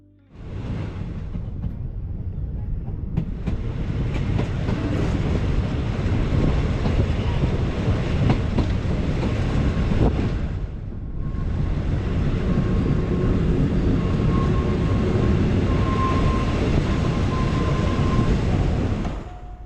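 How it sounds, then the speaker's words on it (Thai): A passenger train in Thailand rumbles steadily along the rails, loud and close, with a broad roar and wind noise, briefly dipping before resuming its continuous run. "ผมก็เดินทางนะครับมากับ รถไฟกระบวนช่วงบ่ายนะครับ เพื่อเดินทางกลับ"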